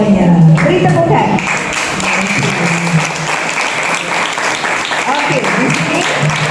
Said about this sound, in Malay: tahniah semuanya. Beri tepukan.